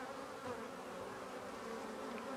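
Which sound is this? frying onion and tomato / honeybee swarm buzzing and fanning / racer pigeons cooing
honeybee swarm buzzing and fanning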